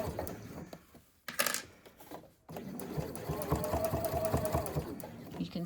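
A sewing machine back stitching along a crossbody bag lining to close an opening, rapid mechanical needle clatter that runs, stops briefly, then resumes steadily at close range.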